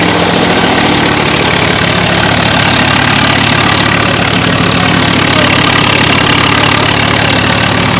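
A Swaraj tractor engine runs under load powering a Rajasthani fodder chopper (toka machine) on a farm, a loud, unbroken rumbling drone with a harsh mechanical roar that holds steady throughout.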